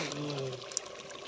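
Brief steady pour of water, a soft continuous splashing stream with a faint tonal hum underneath, close by.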